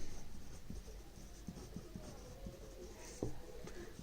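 An algorithm is written out by hand in a quiet room, giving soft, faint scratching strokes with occasional light taps and no talk.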